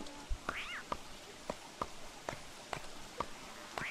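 A cat in the video game Don't Starve, Reign of Giants edition, gives a short, rising meow-like call among a run of soft, regular footstep taps, with a second brief call near the end, over a quiet game background.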